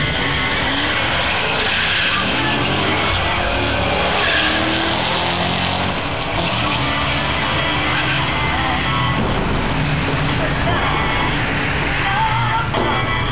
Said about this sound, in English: Corvette up next in the left-hand lane, going up against Candy Beanman and her Mustang on the right.